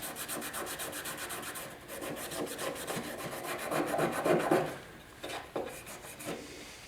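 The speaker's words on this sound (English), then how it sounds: "I don't know what a light scuff cloth will do." An old wooden desk is scuffed with a light scuff cloth, making close, rhythmic rubbing and rasping strokes that grow louder and then stop, followed by a few scattered scrapes.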